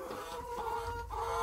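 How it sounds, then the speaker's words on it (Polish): Hungry chickens cluck steadily in a close, busy chorus, with overlapping calls and no pauses. "Oj, kury głodne."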